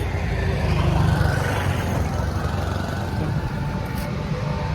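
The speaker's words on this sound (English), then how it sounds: "These are like tuk-tuks. These are cars." Street traffic in Livingston, Guatemala, with cars and tuk-tuks passing along a town street as a steady, close rumble of engines and road noise across the whole stretch.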